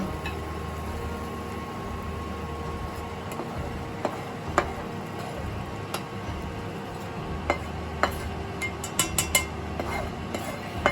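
Butter chicken scraped from a pan into a serving vessel, with scattered light clinks and taps of a utensil against metal growing quicker toward the end, set over a steady low kitchen hum.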